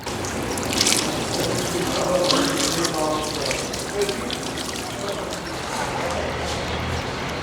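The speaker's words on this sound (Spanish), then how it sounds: "canalizados mediante tuberías que aportan chorros de agua a distintas temperaturas" Hot spring water gushing in jets from pipes at Jermuk, Armenia: a steady, broadband rushing and splashing that stays constant and fairly close throughout, with no voices over it.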